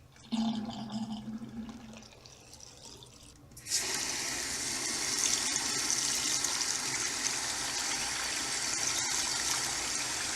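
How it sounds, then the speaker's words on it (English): Tap water gushing into a container, filled about halfway for washing a stuffed toy; a quieter trickle first, then a loud, steady rushing stream from about four seconds on, with no talk. "I'm going to fill it up about halfway."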